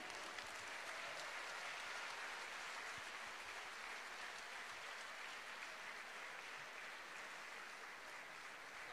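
An audience applauds steadily for fencer Tommaso Martini, a Carabinieri sports group athlete and under-20 team foil world champion, at an award ceremony; the clapping is dense, continuous and fairly distant, with no pauses.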